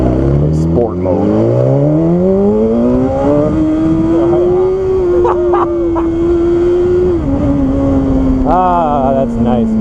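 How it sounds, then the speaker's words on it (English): A BMW S1000RR motorcycle accelerates hard, its engine pitch climbing through several gears then holding a high steady whine before rising again; a voice talks briefly over the loud engine. "The front tire came off the ground like 2-3 times just then, just from acceleration"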